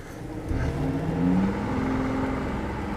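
A BMW i8 driving with its doors raised, a steady engine and road drone with a faint rising whine, heard close and continuous with no talk.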